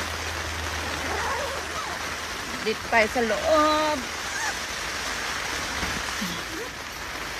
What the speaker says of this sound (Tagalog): lumakas na talaga yung ulan